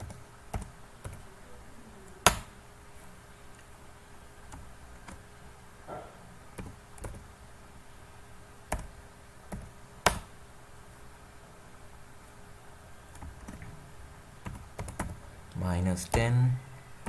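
Scattered keystrokes and clicks tapped on a computer keyboard while entering coordinates in AutoCAD 2020, quiet and close, in short irregular bursts with a few louder strikes, then a brief rustle near the end.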